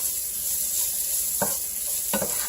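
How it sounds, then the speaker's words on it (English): Food sizzles steadily in a frying pan, a continuous hiss with two brief utensil stirs or scrapes breaking through the crackle. "I like how they're sizzling."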